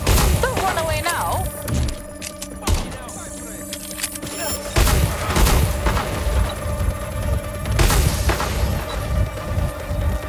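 Fireworks crackle and boom repeatedly in the game Watch Dogs Legion, a dense, loud barrage of thuds and bursts running throughout, mixed with voices talking.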